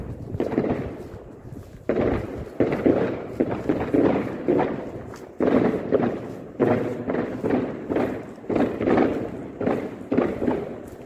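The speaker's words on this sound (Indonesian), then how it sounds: "Kembang api udah mulai ada" Fireworks bursting outdoors during New Year's Eve celebrations in Poland on a foggy night, a steady run of loud thumps and crackling bangs that continues without a break from start to finish.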